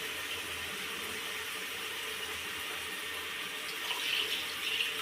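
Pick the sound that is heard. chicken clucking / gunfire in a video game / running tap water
running tap water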